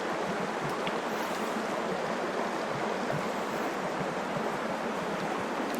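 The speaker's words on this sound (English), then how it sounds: "Man, you can really hear that little waterfall" A small waterfall burbles steadily in a desert canyon, a continuous even wash of water noise with no pauses, moderately close and alone.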